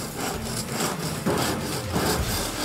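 Concrete formwork panels are scrubbed clean, a loud, close rasping and scraping with back-and-forth strokes in an uneven rhythm, with no talk.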